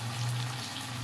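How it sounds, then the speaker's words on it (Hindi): Water being added to potato gravy in a pan during Indian aloo gravy cooking, heard as a brief, steady close pour with a low hum underneath. "और 2 ही टेबलस्पून हम इसके अंदर ऐड करेंगे पानी के।"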